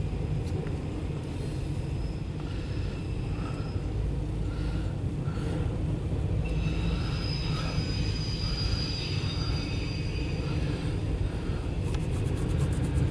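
A loaded CSX autorack freight train passing, a steady loud rumble of rolling cars with wheel squeal and metallic screeching, continuous and close throughout.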